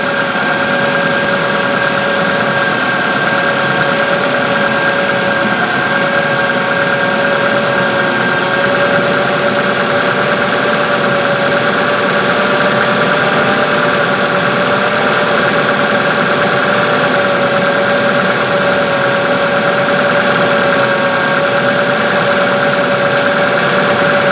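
A 2000 Ford Focus engine idles steadily and loudly during a transmission fluid change, with fluid being pumped out at the same time, producing a constant hum with a faint tonal whine.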